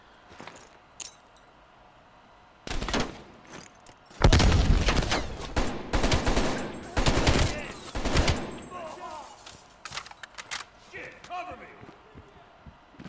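An AK rifle in Call of Duty: Black Ops Cold War fires loud close bursts of rapid automatic shots in several clusters, with quieter moments and brief talk between them.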